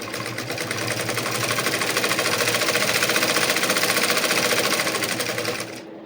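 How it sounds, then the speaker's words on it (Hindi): An electric sewing machine stitches a suit, running steadily for about six seconds with a fast, even mechanical rattle at a consistent loud level before stopping abruptly near the end. "मैंने दोनों सूट कट कर दिए ना, और सिलने भी बैठ गई हूँ"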